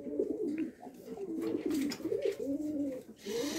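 White fantail (Lakka) pigeons coo close by in a pigeon collection, a steady run of low, rolling throaty coos with short pauses, fairly quiet and alone with no speech.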